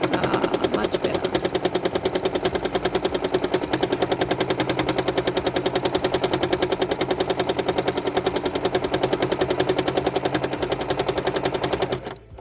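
A home sewing machine stitching a repeating teardrop quilting pattern runs at a fast, even needle rattle for about twelve seconds, loud and close, then stops abruptly.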